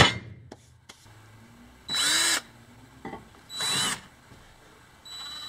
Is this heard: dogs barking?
no